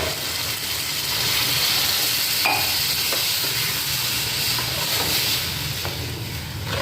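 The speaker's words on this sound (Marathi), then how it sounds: "हे असं हलवतच राहायचं। आता आपली कढी होय बनेपर्यंत, कढीला चांगली उकळी येईपर्यंत असे हलवत राहायचं।" Kadhi made with blended yogurt, coriander powder and asafoetida simmers in a pan with a steady hiss and sizzle, while a spoon stirs it with occasional soft scrapes and clicks; no one speaks.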